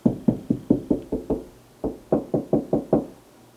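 A small screwdriver taps against a hollow section of drywall beside a stud, giving a close run of about a dozen sharp, evenly spaced knocks in two bursts separated by a short pause.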